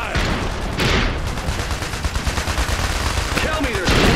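Machine gun fire in the Iron Harvest strategy game rattles in dense, sustained bursts with a few heavier booms, loud and continuous across the whole stretch, with voices mixed in.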